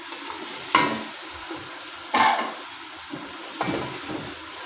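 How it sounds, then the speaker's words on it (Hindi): Mutton pieces fry in a spiced masala, giving a soft continuous sizzle broken by three sharp bursts as the meat is stirred or turned in the pan, close and with no talking. "और गोश्त को 10 मिनट तक भून लेंगे।"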